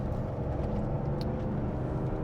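A 1971 Porsche 911T Targa with a 4-speed gearbox drives along a rough, bumpy road, giving a steady low engine rumble and road noise heard from inside the car, with no voices.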